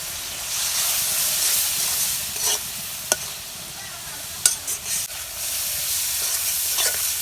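Spices and chili sizzle and hiss steadily in a hot pan of onion, turmeric and chili masala with a little water, with occasional sharp scrapes and clinks from a stirring spoon, close and fairly loud.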